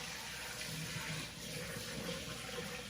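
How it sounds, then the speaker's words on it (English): Broth is poured off brined chicken, a steady close stream of liquid running and splashing without a break. "now we're going to pour off the broth."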